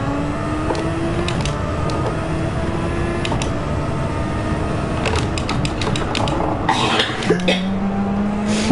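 Car engine in the Gran Turismo 7 racing game drones steadily with shifting pitch as revs rise and drop through gear changes, loud and constant, with clicks and faint voices over it.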